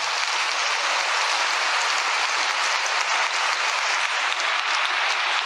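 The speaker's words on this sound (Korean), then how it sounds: "우리 모두 감사의 박수를 올리기 하겠습니다" Steady, dense applause from a large audience at a religious convention hall in Songdo, Incheon, filling the space as a continuous roar of clapping with no talk.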